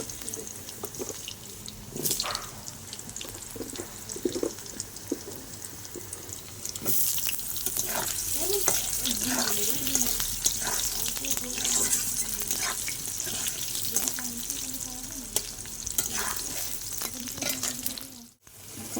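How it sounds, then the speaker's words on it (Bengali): Potato pieces frying in a pan, a hissing sizzle that swells louder partway through, with scattered clinks and scrapes of stirring, close by and with a brief dropout near the end. "আমি আলুটা একটু ভেজে নিলাম"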